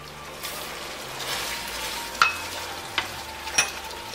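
Fried onions go into tender cooked mutton for Afghani gosht and are stirred in a pan. A low sizzle runs under a few sharp scrapes and clinks of the spoon, close by and with no speech.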